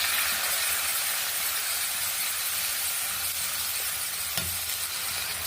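Green chillies, cumin, onion and garlic paste frying in hot oil: a loud, continuous sizzle and crackle holding steady throughout, with a brief clink of utensil partway through.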